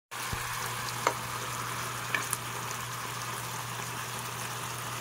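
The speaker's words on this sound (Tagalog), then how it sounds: "Konting pakulo na nga lang ito mga mare at luto na din itong ating adobong pusit." Squid adobo bubbles and sizzles steadily in a pan, a continuous low frying hiss with a couple of faint clinks, close and fairly quiet throughout.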